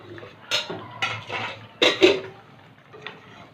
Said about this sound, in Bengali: 2 মিনিট পরে ঢাকনা তুলে নিচ্ছি।